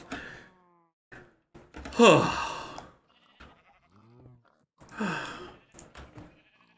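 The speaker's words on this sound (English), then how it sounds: "That pig noise is really getting out of control." Pigs oink in the video game Minecraft, played in the Skyfactory 4 modpack. Two loud, breathy grunting bursts stand out, with quieter sounds and brief pauses between them.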